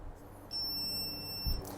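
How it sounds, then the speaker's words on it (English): Begode Extreme electric unicycle emits a steady high-pitched electronic tone lasting about a second during a firmware update, faint against quiet room noise. "when you update, you hear the beeping noise there"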